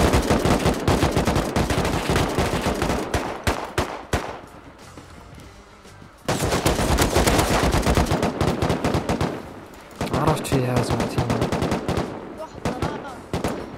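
Rapid gunfire in the video game Rust, dense bursts of automatic shots close and loud, broken by two short lulls before the firing resumes.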